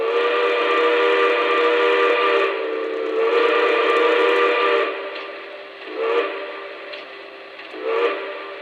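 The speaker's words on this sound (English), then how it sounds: "Let's take a listen to that whistle." A Lionel 726 Berkshire model steam locomotive sounds its whistle in a long chord-like blast followed by shorter toots, loud and close with no talking.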